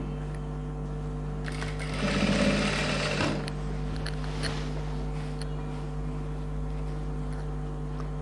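A sewing machine stitches a lock stitch on a silk pattu pavadai skirt. One short burst of rapid mechanical whirring lasts about a second over a steady electrical hum, with quiet hum before and after.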